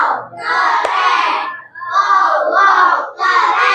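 In a classroom coding lesson, a group of children cheers and shouts in loud unison bursts, a few seconds each with short gaps between them, mixed with clapping.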